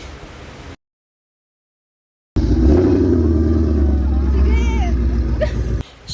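A car driven home to a condo, a steady low engine and road rumble heard from inside the cabin with someone talking over it, following a brief dead silence.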